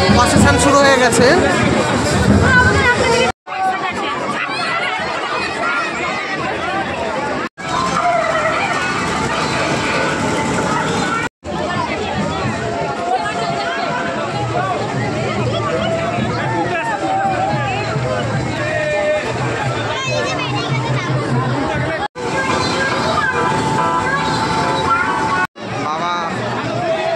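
Dense crowd chatter fills a street during a Bhairav puja procession in Berhampore, a loud, steady babble of many voices with shouts mixed in, broken by a few brief cuts.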